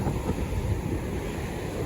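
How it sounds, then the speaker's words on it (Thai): Strong waves breaking on Prerow beach on Germany's northern coast, a continuous close surf roar mixed with buffeting wind on the microphone, steady and fairly loud throughout. "คลื่นแรงมาก"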